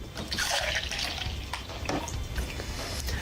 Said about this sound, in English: now we're just going to fill up this part with some milk